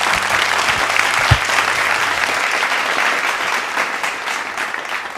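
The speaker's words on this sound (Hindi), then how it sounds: "मैं चाहूँगी जोरदार तालियों के साथ उनका स्वागत करें।" An audience breaks into applause welcoming a guest, an additional district magistrate, onto a stage; dense, steady clapping fills the whole stretch, fairly loud and close, tapering slightly at the end.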